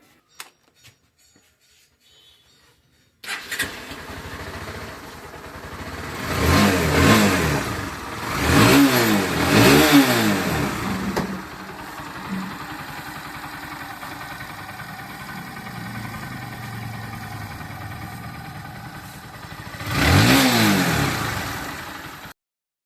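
Silence, then a Bajaj Pulsar NS160 motorcycle engine with a sound problem starts and idles, with several loud revs climbing and falling; a final rev comes near the end.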